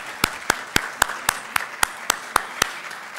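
A church congregation gives a round of applause for first-time visitors, ten sharp, evenly spaced bursts of clapping ringing out close and loud with no talk over them.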